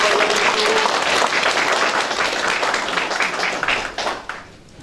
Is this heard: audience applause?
yes